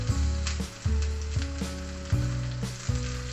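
Chicken dumped into a pan of frying onions for chicken asado: loud, close sizzling with repeated bursts as pieces hit the hot oil and are stirred, no voices.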